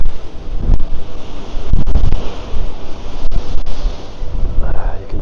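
Strong wind gusts roar continuously across a garden, buffeting the microphone in loud surging blasts.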